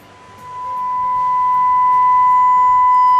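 A steady 1 kHz test tone is turned up until it distorts, swelling from quiet to loud over the first couple of seconds and then holding as a constant whine with faint added harmonics.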